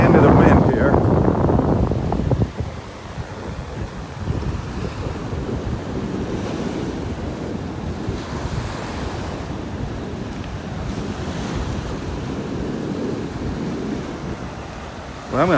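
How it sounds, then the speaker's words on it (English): On a beach in North Naples, Florida, strong wind buffets the microphone with a loud, rumbling roar, while surf washes in underneath. The gusts are heaviest at the start and again at the very end. "I'm going to be walking into the wind here."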